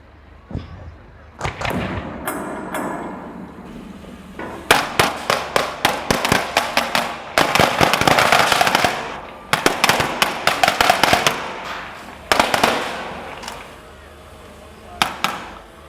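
Blasts and sharp cracks go off in rapid irregular bursts during a military demonstration at an outdoor Armed Forces Day national event in Stirling, loud and close, with some voices under the noise.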